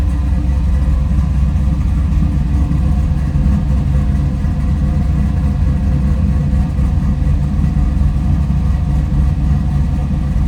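A 1970 Chevrolet Nova's engine idles steadily, with a loud, close, even rumble that holds throughout and has no voices over it.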